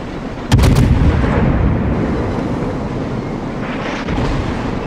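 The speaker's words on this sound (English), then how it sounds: "There goes the armor piercing shells." Warship main guns firing armor-piercing shells in the World of Warships naval battle game, a sudden loud booming salvo followed by a long rumbling roll, then a fainter second shot near the end.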